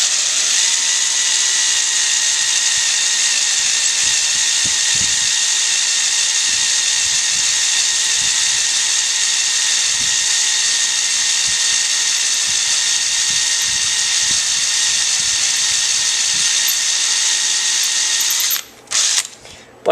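A drill bit bores a hole during a 2005 Corvette master cylinder install, whining loud, steady and close for nearly twenty seconds with a thin high squeal as the bit dulls, then stops abruptly at the end.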